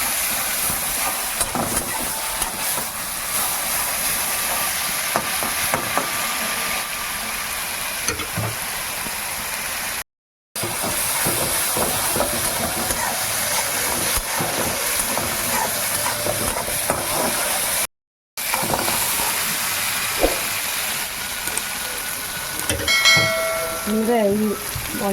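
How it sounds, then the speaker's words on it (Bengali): Chilies and ingredients frying in a little oil in a home kitchen while making a bitter gourd and shrimp mash, giving a steady close hiss and sizzle with stirring clatter throughout. "একটু তেলের মধ্যেই ভাজা হবে।"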